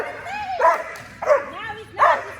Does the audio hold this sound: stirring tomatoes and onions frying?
no